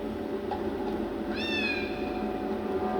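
A kitten gives a single faint, rising-then-falling meow midway through, set against a steady low indoor hum, with no talking.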